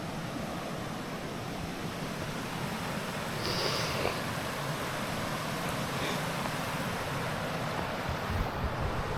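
Water rushing over the drop at Big Shoals on a north Florida river, a steady broadband roar that stays loud and unbroken throughout with no voices.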